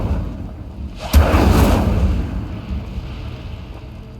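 Incendio fire spell cast in the Hogwarts Legacy video game: a sudden loud burst with a deep boom, then a roaring whoosh of flame that fades over a couple of seconds.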